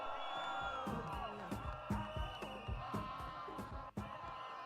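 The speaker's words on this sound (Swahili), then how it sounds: "Wapi makofi ya Speaker?" A rally crowd cheers and whoops for Speaker JB Muturi in a loud, continuous roar, with shouts and rhythmic chanting bursts rising and falling over several seconds.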